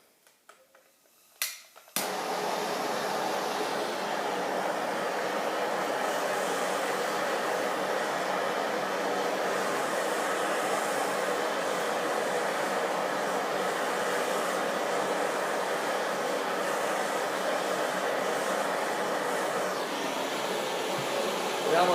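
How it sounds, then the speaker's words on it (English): A propane torch heats a golf club head during shaft removal, lighting with a brief pop before settling into a steady, loud, continuous roar that holds unbroken for about twenty seconds. "I'm going to fire up the propane torch, give it about, I'm just going to give it about 10 seconds of heating"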